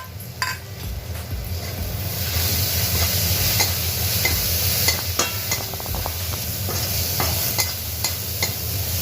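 A turmeric and green chilli paste is stirred in a frying pan for a guar bean dish, soft sizzling beneath repeated scraping and clicking of the spoon against the pan.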